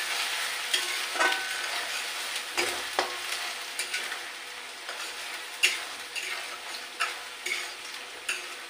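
Grated coconut stir-fries in a pan with a soft continuous sizzle, punctuated by frequent scraping strokes of a spatula against the metal.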